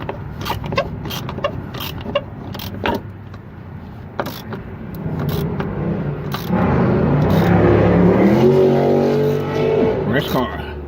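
A car roars past loudly on a street, its engine noise swelling to a revving peak and then fading, after a stretch of faint clicks and background sounds.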